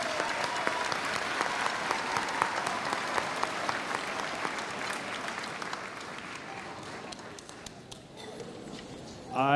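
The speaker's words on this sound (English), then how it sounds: "I do feel that we owe this group of students one more round of applause." An audience applauds warmly and continuously for a group of students at a middle school event, a dense wash of clapping that thins out and tapers off near the end.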